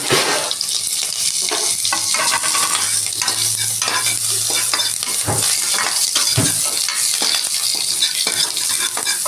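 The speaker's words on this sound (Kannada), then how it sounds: "ಎಲ್ಲ ಫ್ರೈ ಆಗಿ ಕೆಂಪಾಗಬೇಕು" Onion and curry leaves fry in oil as the tempering for an avarekalu sambar, a loud, even sizzle with a few heavier clunks of a spoon stirring the pan.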